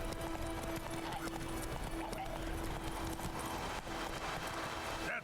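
Horse hooves clip-clop steadily in The Witcher 3 with a neigh near the end, under continuous game ambience and music, fairly constant in level.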